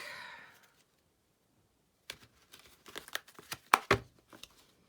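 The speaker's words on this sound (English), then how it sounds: "I'm going to cut the deck" Tarot card deck being cut and shuffled by hand, with a burst of crisp card riffles and slaps after a quiet pause, close and clear, with no talking.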